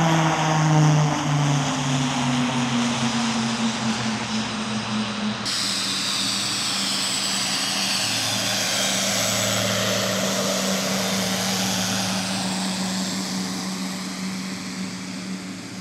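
An OV-10 Bronco propeller airplane drones loudly and steadily throughout, its engine tone holding then shifting as it passes nearby, with no voices.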